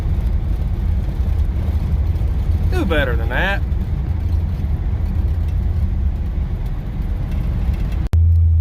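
A 1956 Chevrolet Bel Air with a V8 and PowerGlide transmission drives down the road, heard as a steady, loud rumble of engine and road noise from inside the car while someone briefly speaks.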